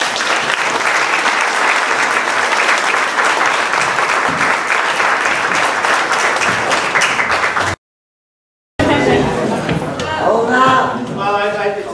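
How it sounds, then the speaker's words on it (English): An audience at a speaking event gives a loud, sustained round of applause that fills most of the stretch, breaks off briefly into silence, then gives way to someone talking. "One more round of applause."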